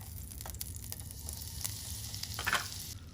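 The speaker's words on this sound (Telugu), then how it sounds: "సో బటర్ మెల్ట్ అయ్యి కొంచెం హీట్ అయ్యాక జింజర్ అండ్ గార్లిక్ వేసుకుంటున్నాను" A tablespoon of butter melts and sizzles in a pan for a chicken wing sauce, a soft, steady frying hiss with light scattered crackles and a brief stir near the end, fairly quiet and without voices.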